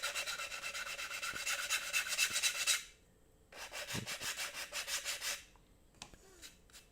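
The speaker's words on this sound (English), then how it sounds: "you can do a little bit of burnishing, you know, hit the high spots and make it look a little worn" Rubbing and burnishing across a rough-textured 3D printed plastic part, a steady close rasping scrape in two long bursts separated by a brief pause, with a few soft taps near the end.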